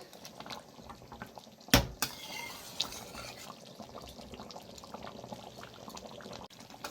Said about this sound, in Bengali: মাছের মাথা দিয়ে আমি 2 থেকে 3 মিনিট ভালো করে আবার ফুটিয়ে নেব